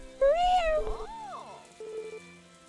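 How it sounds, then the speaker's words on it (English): A small villa cat in the farming game Story of Seasons: A Wonderful Life gives a loud, clear meow followed by a softer second meow over quiet game music. "Oh, I love their little meow."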